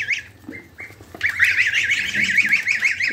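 Two young domestic ducks quack in rapid, repeated nasal calls, a few scattered squawks at first and then a steady close-up run of quacking with no talking.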